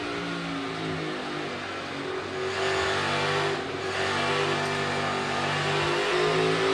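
Race car on a dirt track at the Food City Dirt Race, its engine droning steadily and swelling as the throttle opens smoothly into a corner, heard from a distance without talk.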